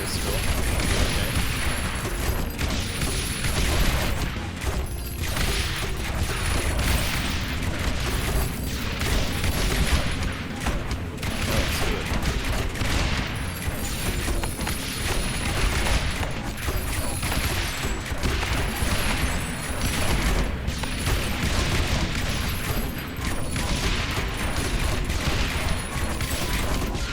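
In a video game, mortar and artillery fire thump and boom through a dense, noisy battle mix, with irregular blasts layered over continuous rumble and a voice talking now and then.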